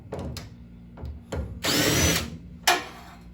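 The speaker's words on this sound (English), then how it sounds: "I'm gonna get my drill." A power drill removing gas tank screws on a 1967 Pontiac Firebird whirs in several short bursts, then one longer sustained run and a final brief spurt, close by and loud.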